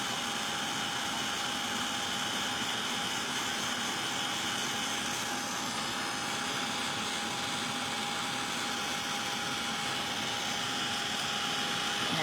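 Heat gun blowing hot air to dry a cleaned clock part, a steady close-up whooshing roar with a thin constant whine, unchanging for the whole stretch.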